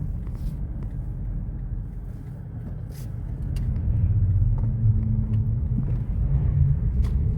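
A Toyota Prius 20 with a 1NZ-FXE engine drives along, giving a low, steady road rumble heard from inside the car that grows somewhat heavier partway through, with a few faint clicks and no talk.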